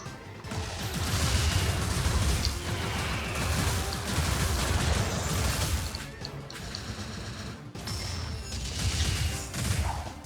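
The Tracer Barrage spell firing in the Wizard of Legend game, a busy stream of rapid impact and burst sounds with a brief gap near the eight-second mark before the barrage resumes, moderately loud.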